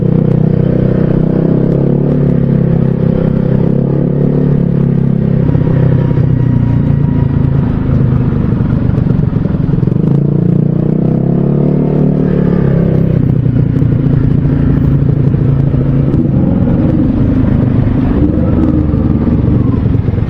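A Kawasaki Ninja motorcycle engine runs steadily on the road, a loud, continuous low rumble with slight rises and falls in revs, no voices over it.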